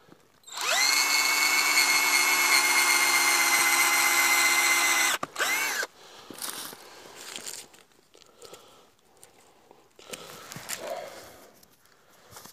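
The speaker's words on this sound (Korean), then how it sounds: "8mm짜리 전기 드릴입니다." An 8mm electric drill bores into a kiwi vine, a steady loud whine for about five seconds that then cuts off, leaving faint rustling and handling noises.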